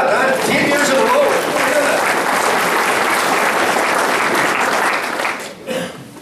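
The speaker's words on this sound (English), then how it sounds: "Let's give them a round of applause." A crowd gives loud, sustained applause for state champion volleyball girls, dense clapping filling the space before thinning out at the very end.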